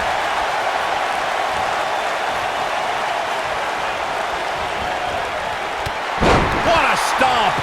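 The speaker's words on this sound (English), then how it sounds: "There he goes, crashing to the floor." A wrestler crashes to the floor in a wrestling video game, a sharp heavy impact near the end over a constant crowd roar, with a commentator's voice running throughout.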